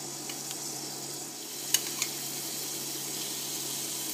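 Pork fillets for pork Marsala sizzle in melted butter in a pan over high heat, a continuous close frying hiss broken by a couple of sharp pops and spatters.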